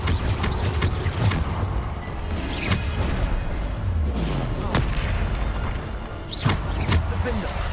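Repeated Bombarda spell blasts from the game Hogwarts Legacy, heavy booming explosions recurring every second or two over a dense, continuous mix of game effects and music, with a voice speaking throughout.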